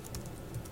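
A computer keyboard is being typed on at a steady pace, with quick close key clicks in a brief run and no talking.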